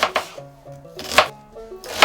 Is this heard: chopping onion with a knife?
yes